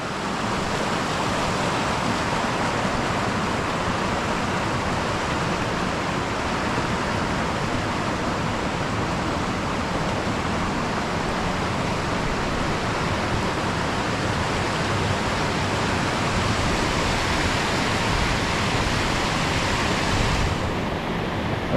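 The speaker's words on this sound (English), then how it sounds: "the waterfall's still wide there" Steady, full roar of Careyburn waterfall pouring over boulders into pools, an unbroken wash of rushing water that holds at a constant loud level for the whole stretch, with no voices.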